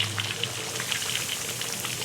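A whole chicken deep-frying in hot oil gives a dense, steady crackle and bubbling sizzle, close and continuous, with no voices.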